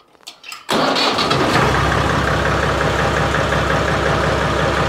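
A car engine cranks briefly and catches, then settles into a loud, steady close-up idle with a faint ticking rhythm during alternator troubleshooting.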